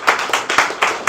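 A small audience claps at a steady brisk pace for a brief moment, close and clear, with no voices over it.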